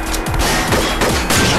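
Rapid gunfire bursts from the Henry Stickmin video game, a loud dense volley of shots running through the whole moment.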